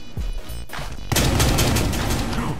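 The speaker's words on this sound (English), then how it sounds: "She shot through the wall at me, so I shot back." Gunfire exchanged through a wall in Rainbow Six Siege: a sudden loud burst of rapid shots kicks in about a second in and continues as a dense, sustained fusillade, preceded by quieter in-game movement and clatter.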